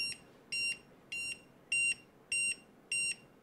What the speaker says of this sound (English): Now it's beeping me.